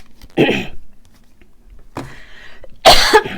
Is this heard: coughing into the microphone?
yes